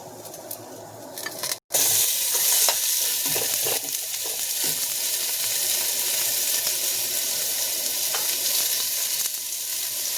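Carrots brown in a pot of oil for a vegetarian curry, a loud, constant sizzle with the scrape and clatter of stirring. A brief dropout comes early on.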